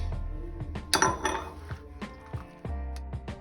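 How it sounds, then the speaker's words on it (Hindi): Cream being mixed into a fruit salad in a bowl, with a run of close clinks and scrapes of a spoon against the dish, irregular and fairly loud, with no talk. "अब हम जो है इसमें क्रीम को ऐड कर देंगे। और फिर इसको मिक्स करते जाएंगे।"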